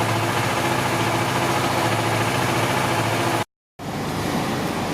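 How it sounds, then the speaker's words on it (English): A Kawasaki Ninja 650 motorcycle engine idles steadily and close by, a constant low hum that cuts out abruptly for a moment near the end before resuming. "So I will let the engine run until it completely stops"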